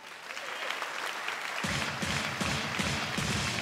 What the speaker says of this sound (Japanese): こうして拍手が巻き起こっております。